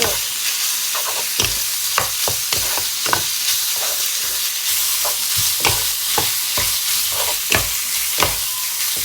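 Oil-marinated pork is stir-fried in a pan, a constant loud sizzle broken by repeated sharp scrapes and clacks of a spatula at an irregular rhythm, with no voices.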